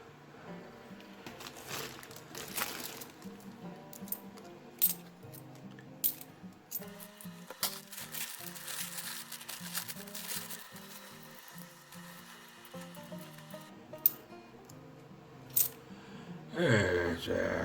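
Coins clink and rattle as they are sorted and handled during a coin hunt, with sharp metallic clicks scattered through steady shuffling, close and moderately loud, and a louder jumble of coins near the end.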